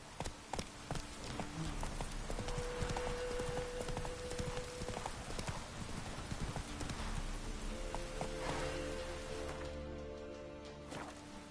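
Roach the horse's hooves clip-clop in a steady walking rhythm through The Witcher 3, close and clear over faint ambient background, with no talking.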